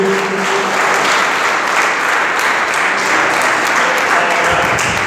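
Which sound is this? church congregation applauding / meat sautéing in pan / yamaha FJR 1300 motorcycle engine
church congregation applauding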